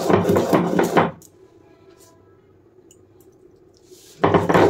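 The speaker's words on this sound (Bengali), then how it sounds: "জল দিয়ে এটাকে আমি ভালোভাবে বেটে নেব।" Spices for a Bengali pachon are ground into a paste with water, with two loud bursts of rough, heavy grinding separated by a quiet pause.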